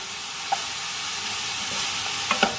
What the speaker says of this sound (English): I want you guys to hear this sizzle.